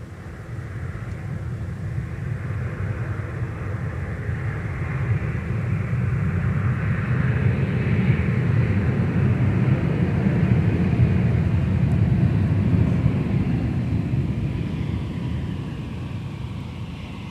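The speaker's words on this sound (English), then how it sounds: "So here comes Delta Flight 2877 coming in from Denver," Delta Airbus A321 from Denver landing at Minneapolis–Saint Paul airport, a broad jet rumble and roar that builds gradually, peaks loudly in the middle and slowly fades, with no voices.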